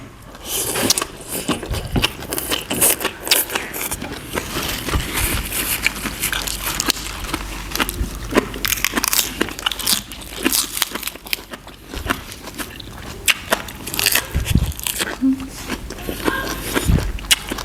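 Salmon papaya salad with blanched vegetables is eaten with loud, close crunching and chewing throughout. Crinkling and clattering are mixed in, and people talk at times.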